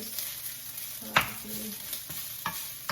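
Steady sizzling and crackling of salmon frying in a hot pan, with a few scraping stirs close by.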